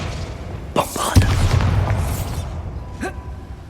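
Bombarda blasting spell cast in the Hogwarts Legacy video game: a sharp explosive boom with a short rumbling tail, preceded by a whooshing burst, and a smaller pop follows a couple of seconds later.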